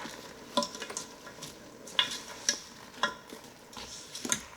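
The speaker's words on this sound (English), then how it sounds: "Mix it around." Quinoa with green onions and frozen vegetables is stirred in a Ninja Foodi pot, with a faint simmer underneath and a series of sharp spoon scrapes and clinks against the pot, close and fairly quiet, roughly every half second to second.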